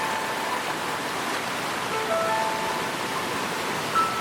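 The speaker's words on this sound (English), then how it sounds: "you just need a path and the sound of water" A freshwater stream flows through a rainforest, a steady broadband rushing and babbling of water, close and continuous, with faint bird chirps on top.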